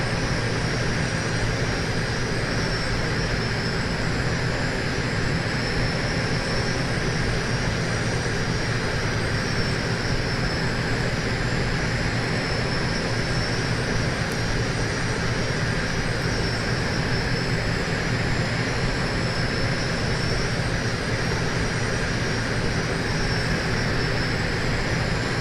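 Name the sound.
propeller plane with composite six-bladed prop flying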